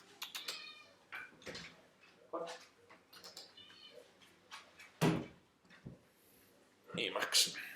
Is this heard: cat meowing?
yes